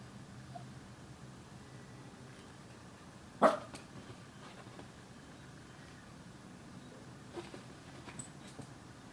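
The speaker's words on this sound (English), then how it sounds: "She wants something to bark at." A single sharp dog bark rings out once, fairly close, followed by faint scuffling and quiet background noise.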